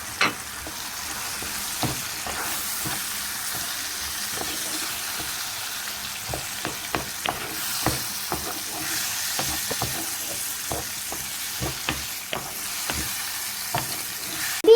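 Two cut tomatoes tossed into frying ingredients in a pan for tomato bulgur pilaf, a steady close sizzle with repeated clicks and scrapes of stirring throughout, no voices.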